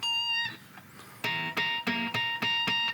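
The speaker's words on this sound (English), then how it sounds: "So that is the specific pinch harmonic that you want to do." Electric guitar playing a riff, with a sustained high pinch-harmonic squeal at the start, then a run of five sharp, evenly spaced palm-muted chugs, loud and close with no talk.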